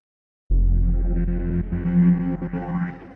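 A synthesized portal sound effect built in a sound design experiment begins abruptly as a warbly, reverberant drone with wavering tones, loud and alone.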